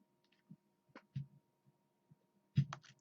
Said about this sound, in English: So we're soloing kick, and that sounds like all we're getting is kick.